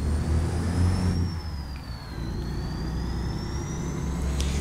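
A heavy truck engine in a truck simulator game rumbles loudly with a high whine that dips and then climbs again, steady throughout and without any voices.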